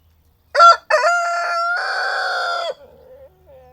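A rooster crows loudly and close by, a full cock-a-doodle-doo with a sharp start and a long drawn-out final note, followed by a few soft clucks.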